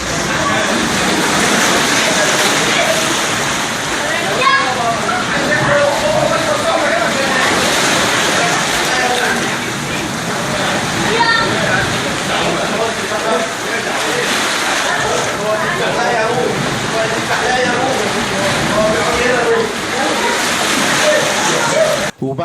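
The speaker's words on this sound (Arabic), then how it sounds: "تشوف وتسمع مية البحر وهي داخلة للكهف وخارجة منه" Sea water surging into and out of a seaside rock cave, a continuous loud rushing and sloshing wash with churning surf, while people talk and murmur throughout.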